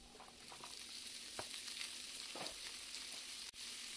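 Capsicum frying in olive oil with onion and garlic gives a soft, steady sizzling hiss throughout, with a few faint clicks and one sharp tap near the end.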